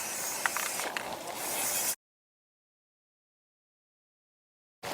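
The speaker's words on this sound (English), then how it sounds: "I'm just gonna finish both containers with this spray paint." A hissing burst of spray paint onto a container for about two seconds, then silence, with another short hiss starting at the end.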